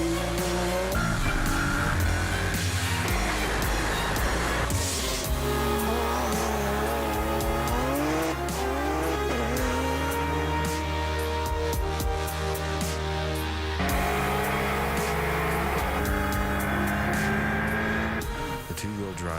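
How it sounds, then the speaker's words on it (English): A two-wheel-drive race car powered by a Hyundai Genesis engine climbs the Pikes Peak mountain road, its loud engine rising and falling through repeated gear changes with brief tire squeals, close and continuous throughout. "Two-wheel-drive Hyundai Genesis-powered race car delicately weaves its way up the mountain"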